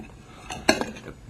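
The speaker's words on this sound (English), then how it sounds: "quickly take the hot metal solid out of the boiling water and insert it into the calorimeter and put the top on." A hot metal solid drops into a calorimeter and its lid is set on, giving a soft scrape followed by a sharp metallic clink and a smaller knock, close and fairly quiet.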